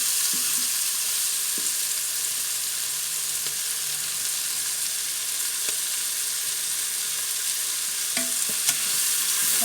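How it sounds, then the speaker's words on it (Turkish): Mushrooms and a small can of corn sautéing in a pot, giving a steady close sizzle with occasional scrapes and knocks of a stirring utensil throughout, no talking. "Onlarla da şöyle karıştırıyorum. İyice soteliyorum."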